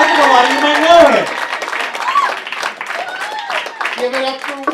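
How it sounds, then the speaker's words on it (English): A comedy club audience applauds comedian Josh Friedman, a moderate patter of clapping with scattered whoops, partly under a voice talking over it. "How about a big round of applause for Josh Friedman?"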